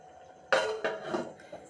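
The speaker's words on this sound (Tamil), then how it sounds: "அது வரைக்கும் நம்ம மூடி வச்சிடலாம்." A metal lid clanks down onto a pot of boiling egg gravy with a sharp clatter, followed by a second softer knock and faint rattling as it settles.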